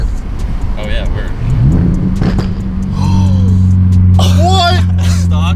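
A Subaru BRZ with a newly installed aftermarket exhaust revs and downshifts, its loud engine drone swelling and holding steady with crackling pops, while people talk and exclaim excitedly nearby.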